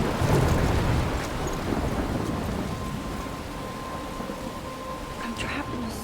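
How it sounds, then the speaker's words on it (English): Thunderstorm ambience in the video game Life is Strange, steady heavy rain and wind roar with a low rumble of thunder, loudest at the start and then easing slightly. "I'm trapped in a storm?"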